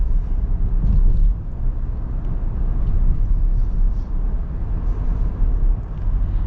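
A 2025 Chevy Traverse LT with its 2.5 engine driving, heard from inside the cabin as a steady, continuous low rumble of engine and road noise with no clear breaks.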